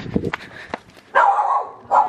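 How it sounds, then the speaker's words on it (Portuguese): Several dogs bark in short, sharp bursts nearby at night outdoors, a quick irregular run of yaps and woofs with a couple of louder barks at the end. "Os cachorros."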